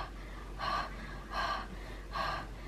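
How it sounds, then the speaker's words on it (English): A woman in labor during a home birth breathes heavily, giving three loud, gasping breaths at regular intervals, close and clear against a quiet room with no talking. "Okay, slow your breathing down."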